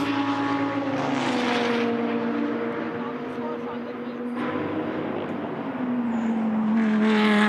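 GT2 race cars, a KTM and an Audi, pass on the Red Bull Ring circuit, their engines roaring loudly with rising and falling pitch as they go by, while a commentator talks over the noise.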